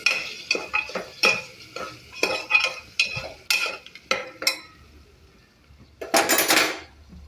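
Washed, chopped potato stir-fried in oil in a pan for pudina goli pulav, with a run of sharp metal spatula scrapes and clanks, a quieter gap, then a final burst of sizzling.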